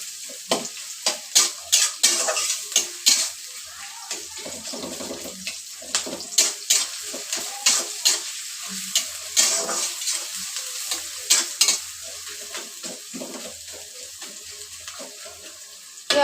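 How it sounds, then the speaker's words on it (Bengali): Chopped onions fry in hot oil for egg noodles, a continuous sizzle with repeated scraping and clinking stirring strokes close up, steady throughout with no voices. "পেঁয়াজটা ভাজা ভাজা হতে একটু সময় লাগবে।"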